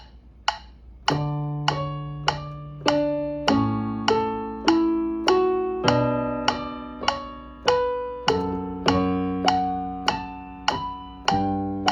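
Piano chords of Canon in D play steadily with a sharp metronome click marking each eighth note, a regular pulse running under the notes throughout.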